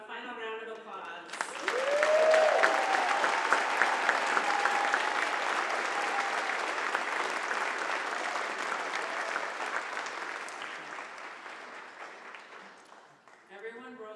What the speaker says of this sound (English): How about a final round of applause?